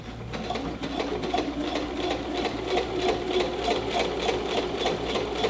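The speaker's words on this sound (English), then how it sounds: "Put my needle down, put my foot down. I'm going to do a couple of stitches." A sewing machine top stitches a jacket, running steadily with a fast, even needle rhythm that holds at a constant close, moderately loud level with no talking.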